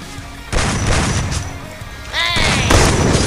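Grenade blasts and gunfire in the Free Fire video game: two sharp, loud bursts of explosive noise, a brief swept whine between them, all close and punchy over a low background.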